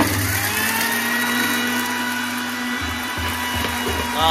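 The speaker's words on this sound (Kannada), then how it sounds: "ಗ್ರೈಂಡ್ ಮಾಡ್ತಂದುಲ್ಲೆ" A mixer grinder grinds spices for Mangalore-style maruwai sukka with a loud, steady motor whine, close by, and its pitch dips briefly partway through.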